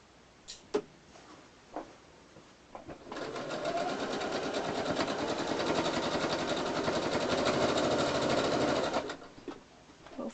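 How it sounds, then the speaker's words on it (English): A sewing machine stitches tea towels into farmhouse-style pillows, starting with a few clicks and then running in a steady, continuous whir for about six seconds before stopping, close and fairly loud. "Hopefully you can hear me okay with the sewing machine going."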